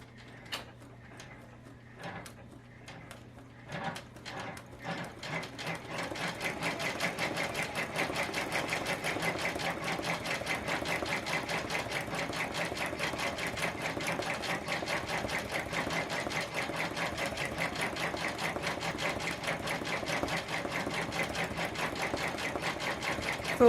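A few slow mechanical clicks and ratchets, then an embroidery machine sewing an organza sunflower coaster settles into a steady, rapid stitching rhythm that stays loud and even to the end, with no voices.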